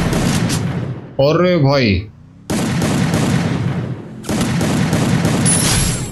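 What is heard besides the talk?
gunshots in Free Fire video game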